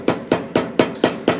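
Hammer used as a cutting tool on paint in the grain of a part during an Atlas lathe quick-change gearbox restoration, striking six times at an even, quick rhythm, each blow sharp and close with a short ringing tail, no talk.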